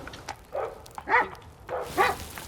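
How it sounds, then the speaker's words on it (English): Dogs bark outdoors near cobbled roads, with a few separate yelping barks spaced about half a second apart over light background noise. "And all the dogs."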